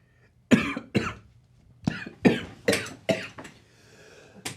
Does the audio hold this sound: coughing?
yes